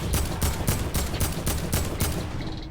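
Fortnite gunfire comes as a quick series of loud, evenly spaced shots, around ten in under three seconds, close and punchy with a short tail at the end.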